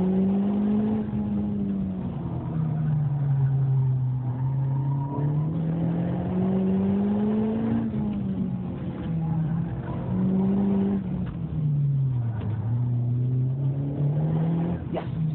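A tuned Honda Civic Type R with a KTUNER Stage 1 tune runs an autocross course, heard from inside with a loud, continuous engine note that rises and falls in pitch through constant acceleration and braking.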